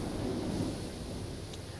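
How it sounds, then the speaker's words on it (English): Heavy rain and a low rumble of thunder in the video game The Universim, a steady loud wash of downpour with a deep roll underneath. "That is some really loud rain."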